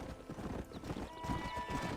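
Horse hooves clip-clopping at a steady walking pace in the video game Red Dead Redemption, a soft, fairly distant rhythmic thudding under low background ambience.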